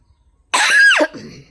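A single sharp, harsh cough, close and loud, breaking a near-silence and trailing off into a short rasp.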